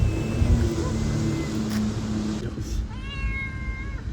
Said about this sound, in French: On est retourné pour donner à manger au petit chat.